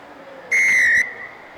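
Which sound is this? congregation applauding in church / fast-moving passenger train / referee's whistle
referee's whistle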